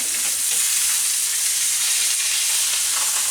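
Spice-crusted meat sears in a hot pan just after being flipped, a loud, even, close sizzle that runs unbroken with no talking.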